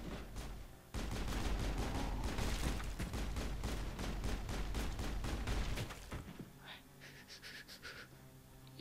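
Rapid gunfire in the Mass Effect video game, a dense stream of sharp shots in quick bursts lasting several seconds, then breaking off into quieter scattered pops and faint tones.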